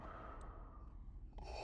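Heavy, creepy breathing in a Star Wars fan film, low and faint, with soft drawn breaths and a brief sharper intake near the end and no voices.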